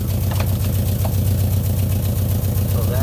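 A car idles nearby on a freshly repaired exhaust that still leaks at a few joints, giving a loud, steady low rumble with a faint ticking pulse and no break.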